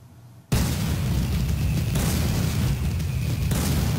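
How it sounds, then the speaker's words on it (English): Fireworks going off in the Pokemon Black 2 video game, a sudden loud burst after a brief quiet moment, followed by continuous dense crackling and booming that stays steady and close to the end. "Oh, we have fireworks too."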